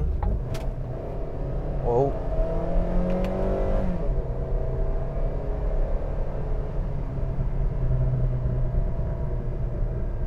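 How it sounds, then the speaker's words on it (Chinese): A 2013 Honda Civic 2.0 driven in S mode on paddle shifters, its engine rumbling and revving up with a rising whir heard from inside the car, steady road noise throughout, and someone talking briefly. "我进 S 档，用这个换挡拨片，把转速保持在 RPM 2以上。"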